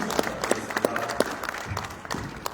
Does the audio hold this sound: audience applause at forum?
yes